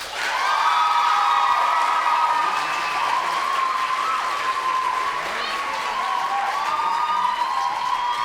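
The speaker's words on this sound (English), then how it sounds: "Can we give them one more round of applause?" Audience at a high school spring concert gives a school music group sustained applause with scattered cheers and whoops, a dense steady roar of clapping lasting several seconds.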